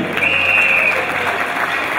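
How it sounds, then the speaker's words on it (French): Audience applause for Léon Mukuna, former Zairean-Congolese football star, at the Soulier d'Ébène 2010 ceremony: steady, dense clapping from a crowd, loud and close, holding evenly for about two seconds. "Je vous demande de l'applaudir."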